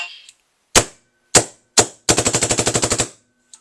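A DLX Luxe paintball marker fires three separate loud, sharp shots and then a rapid burst of about a dozen shots. The shots are close and there is no talking.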